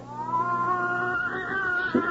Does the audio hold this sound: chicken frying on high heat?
no